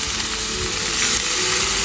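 Bitter gourd (korola bhaji) frying in oil, a dense, steady sizzle that holds at even loudness without pause for the whole short stretch.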